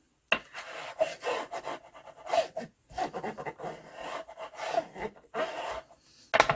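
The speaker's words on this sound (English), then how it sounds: "Let's just burnish it down to make sure." Paper being burnished down onto an old book page, heard as soft, close rubbing strokes in irregular bursts, each a dry scraping rasp separated by brief pauses.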